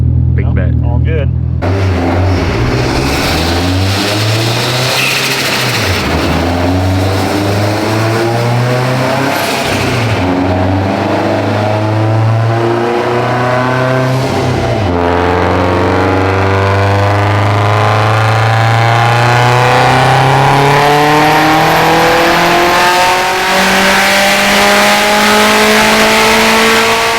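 A Subaru STI with a stock-block engine making over 600 wheel horsepower revs hard on a dyno, climbing through its rev range in repeated loud rising pulls that build toward the end, with voices talking underneath.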